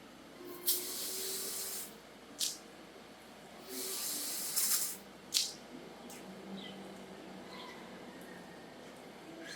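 Rear washer of a Volvo XC90 spraying in short bursts: two long hissing sprays and two brief squirts spread over several seconds, fairly close, with no talking over them.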